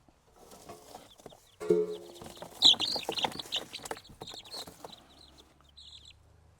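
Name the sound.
chickens clucking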